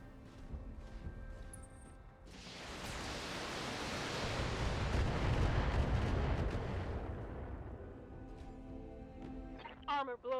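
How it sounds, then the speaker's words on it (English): A mech firing a missile salvo in BattleTech: a broad, roaring rush of launches that builds over several seconds, peaks, then tails off. A voice speaks briefly at the very end. "I meant to fire the missiles"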